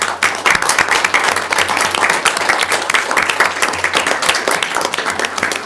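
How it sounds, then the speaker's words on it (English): Attendees at a school district board meeting give honored individuals a round of applause, with many hands clapping in a dense, sustained patter that stays fairly loud throughout. "give all these individuals a round of applause"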